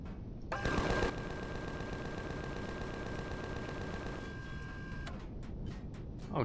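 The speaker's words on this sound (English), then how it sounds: "Where are those shots coming from?" Sustained rapid automatic gunfire in the video game Empyrion, a dense continuous rattle with a steady ringing tone, stopping abruptly before a few sparse shots.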